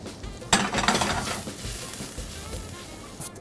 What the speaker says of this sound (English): We're going to saute that off in the pan with some rosemary and thyme.